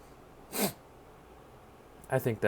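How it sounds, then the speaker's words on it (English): A quick nasal sniff, then after a pause a few short breathy bursts, close and fairly loud against a quiet room. "Excuse my sniffling"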